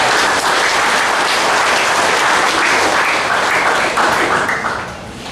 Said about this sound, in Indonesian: kita memberikan tepuk tangan dulu untuk anak-anak kita yang bernyanyi